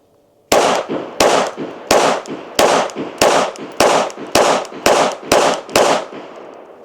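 Smith & Wesson Bodyguard 2.0 .380 pistol, non-compensated, firing ten 95-grain rounds at 5 yards: ten loud, sharp shots at a slow, even pace of about half a second apart, each with a brief ringing tail, no talk.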